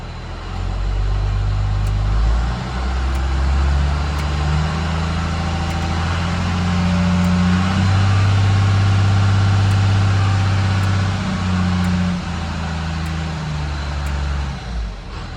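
A Cummins diesel truck engine idling nearby, a loud, steady low drone with a slight swell in the middle before easing back to an even idle.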